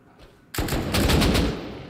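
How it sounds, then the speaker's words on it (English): Heavy M2 machine gun fire in the game Rust, a loud sustained automatic burst of rapid shots that begins abruptly after a quiet moment and rattles on for over a second. "I can't shoot through these. He has an M2."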